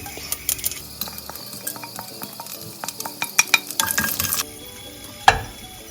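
Garlic and dry red chillies fry in a pan for horse gram bassaru, crackling with quick sharp sizzles and spatters, a spoon clinking against the pan, one louder knock near the end.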